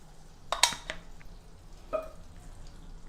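Butter and vegetable oil warming on a tawa over a gas stove, with a soft faint sizzle beneath a couple of sharp metallic spatula scrapes and taps against the pan.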